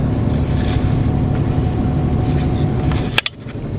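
A car rolling along on a nighttime test drive, a steady low engine and road rumble heard from inside, broken near the end by a short thump and rattle.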